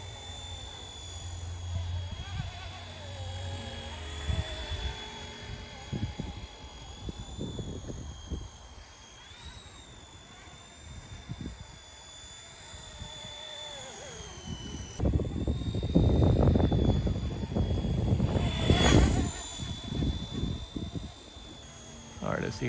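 An RC Era C189 MD500 model helicopter flies low and fast on a windy day, its rotor whine steady and close with engine pitch rising and falling, while a person talks intermittently over it.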